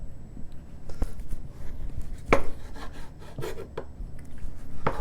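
A knife cuts tomatoes into quarters on a cutting board, giving a few close, dull thunks and scraping rubs at an uneven pace with no talking.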